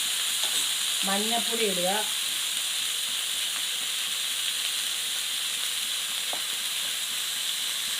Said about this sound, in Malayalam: വെച്ചിരിക്കുന്ന ഗ്രീൻ പീസ് അതിൽ കൂടെ ഇട്ട് ഇളക്കുക